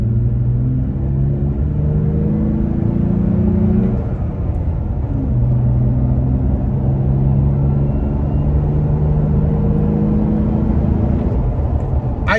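Toyota Tacoma pickup engine accelerates, a low steady rumble with rising harmonic drone heard from inside the cab, pausing briefly mid-way before climbing again, with no talking over it.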